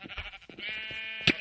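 A sheep in the Minecraft video game bleats, a short wavering nasal call followed by a sharp brief bleat near the end, close and clear with no talking.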